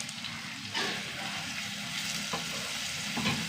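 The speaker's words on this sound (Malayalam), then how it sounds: "ഉള്ളി നന്നായി മൂത്ത് വരട്ടെ." Chopped small onions, garlic and green chillies sizzle steadily in a pan, close and moderately loud, with occasional stirring scrapes and clinks over the frying hiss.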